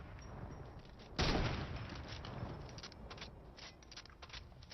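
A sudden loud crack of gunfire in Fortnite Battle Royale, followed by a scattered series of fainter shots and mechanical clatter over steady background game noise, with no talk.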